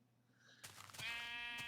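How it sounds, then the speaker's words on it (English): Pink sheep in Minecraft, a single drawn-out bleat rising out of quiet background, close and clear, following a short soft lead-in. "we have found our first pink sheep"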